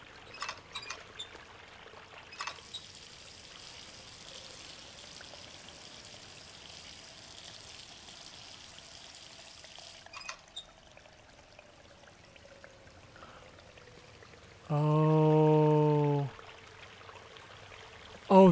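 Water drains away in the Riven Remake video game, a steady low wash through most of the scene, then a loud burst of rushing, gurgling flow lasting a few seconds near the end.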